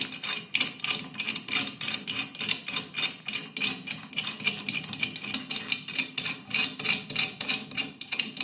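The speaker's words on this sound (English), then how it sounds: "These bolts has to be opened by L key. I am opening the bolts one by one." Steady metallic scraping and clicking as valve body bonnet bolts are loosened one by one with an L key, a fast, regular ratchet-like rhythm repeating close up throughout.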